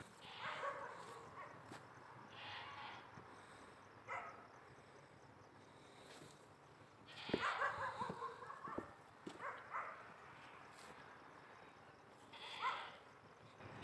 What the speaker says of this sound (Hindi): हाँ बकरी के और कुत्ते के बोलने की आवाज़ इकट्ठी आ रही।